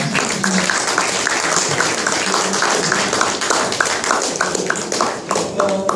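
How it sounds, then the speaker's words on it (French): An audience applauds Monseigneur Baline at the close of a talk about building the first cathedral in Bahrain, with dense, steady clapping throughout and a few faint voices mixed in. "je voudrais qu'on termine en applaudissant Monseigneur Baline"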